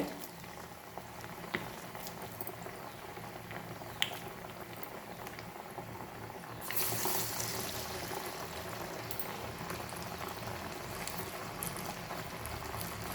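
Chana dal vada batter frying in hot oil, a dense steady bubbling sizzle close by that swells louder partway through as more batter goes in.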